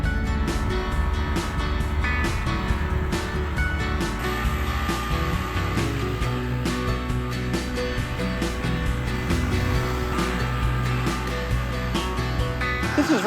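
Compact tractor with a box blade driving over a plowed one-acre field, a steady low engine drone that holds evenly throughout, moderately close, with faint intermittent clicks and rattles.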